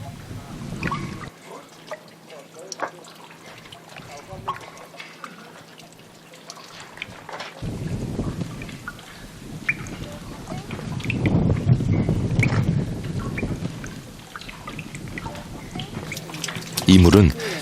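Water droplets drip and trickle into a small stream at the source of a large Central Asian river, heard as soft scattered drips and a gentle watery wash that builds in the middle, with a narrating voice over it.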